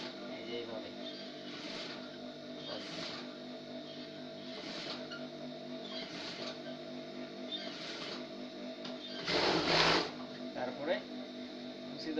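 A sewing machine double-stitches a salwar. The motor whirs steadily in repeated short runs of stitching, with a louder, denser burst near the end and a voice present at times.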